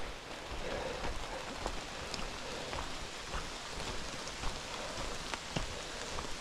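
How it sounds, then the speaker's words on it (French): Steady heavy rain pours down on a forest in Forêt d'Andaine in a continuous dense hiss, with scattered sharper drop impacts and no voices. "Ça y est, on prend une bonne averse encore."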